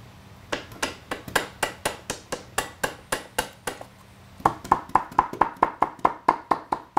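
Hammer tapping on a metal part of a shear, a steady series of crisp, ringing metallic strikes, about twenty in all, coming in a slower run, a short pause, then a quicker, brighter burst, close and clear with no talk.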